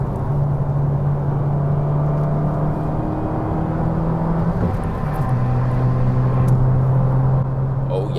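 A modified Fiat Abarth engine hums steadily as it downshifts, its low drone stepping down in pitch with each gear change, fairly loud and close, with no one talking over it.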